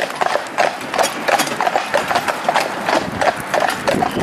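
A horse's hooves clip-clop steadily on a road while it pulls through a puddle, the rhythmic knocks coming close and fairly loud throughout.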